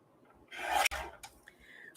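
Paper is trimmed by hand for a small 3x5 card, heard as a single close rasping snip-and-rub lasting about half a second, followed by softer brief rustles, with no talking.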